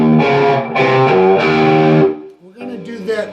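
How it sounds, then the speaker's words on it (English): A distorted electric guitar plays the E lick from a solo rhythm part, three loud, sustained chordal phrases followed by a shorter, quieter figure, close and heavily effected. "So as the solo rhythm continues with that E lick"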